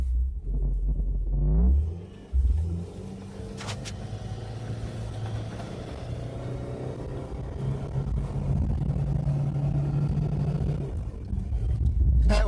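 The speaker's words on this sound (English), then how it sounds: "That went into third gear." Engine of a 1996 Chevrolet Cavalier drops in pitch as the automatic shifts into third gear on a slippery road, heard from inside as a steady low drone with a brief dip before it settles.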